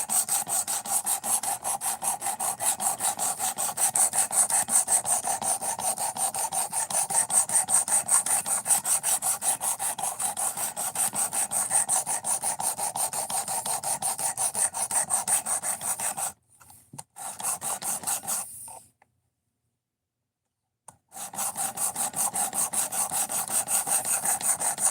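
A knife blade scrapes back and forth on a sharpening stone in a fast, steady rhythm of strokes. The sound is close and continuous, with two short pauses near the end.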